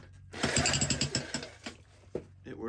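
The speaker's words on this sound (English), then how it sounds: "Try jackhammer number 1." A jackhammer in a flooded DIY tunnel gives a burst of rapid mechanical hammering, loud and rattling, for about a second and a half, then cuts off, leaving a short clank and faint rumble.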